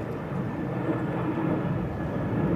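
A Qantas airliner passing overhead above Australian bush, a steady low broadband roar that swells slightly and fills the whole clip, moderately loud and distant, with no voices.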